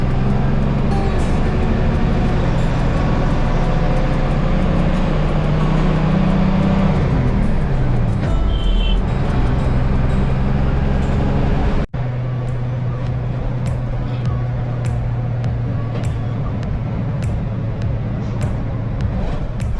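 Inside an MSRTC state transport bus on the 12 km road from Arvi to Kaundinyapur, the engine drones steadily with road and rattle noise, and the tone shifts partway through as the bus changes speed.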